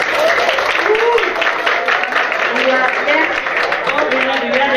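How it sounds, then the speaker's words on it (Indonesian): Audience applause fills a hall at a high school final competition in Kediri, a steady dense wash of clapping, fairly loud and continuous, with a host's voice speaking over it throughout. "mana tepuk tangannya?"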